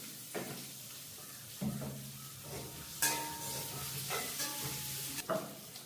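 Onion and fenugreek seeds frying in a pan, a quiet sizzle under a few sharp stirring scrapes and clinks of a utensil against the pan.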